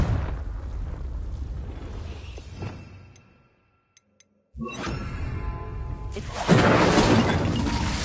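A Confringo blasting spell in Hogwarts Legacy erupts in loud booming crashes with debris and shattering, a brief near-silent gap midway, then another heavy, sustained blast that swells even louder.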